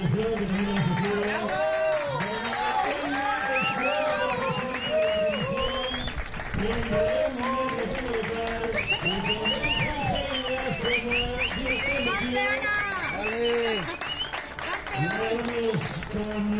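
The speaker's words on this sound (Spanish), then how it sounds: "Un aplauso a nuestros jueces a cargo de esta competición" At an awards ceremony for the Spanish championship for athletes with disabilities, an audience claps and cheers continuously while an announcer's amplified voice carries over the crowd.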